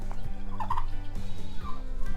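A turkey gobbles on a homestead, a short close warbling call over low background rumble, with no voices.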